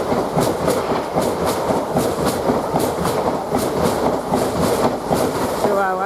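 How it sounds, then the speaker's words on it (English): An LNER train passing through Durham station towards Edinburgh, a loud continuous roar with a rhythmic clickety-clack of wheels over rail joints, close and steady throughout. "Now we've got a LNER train towards Edinburgh."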